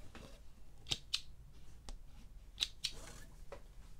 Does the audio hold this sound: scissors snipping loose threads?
yes